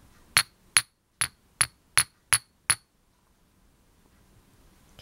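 Seven crisp chinks as pieces of glass are tapped together in a quick, steady rhythm, close and clear, followed by a few seconds of near silence.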